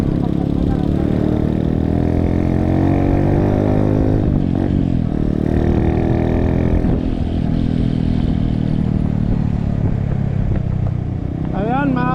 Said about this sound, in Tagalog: maayos na yung motor ko hindi na maingay yung makina niya